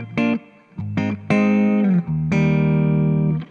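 Electric guitar through a Victory Lunchbox amp with vintage-style spring reverb, played as a few sustained notes and chords with a reverb tail after each, loud and close with no talking.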